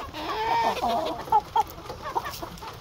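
Chickens cluck close by in a short burst of rising, throaty calls at feeding time in the countryside on a rainy day, followed by a few sharper clucks.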